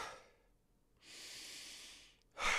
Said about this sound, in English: now we're nasal breathing, but with a mouth exhale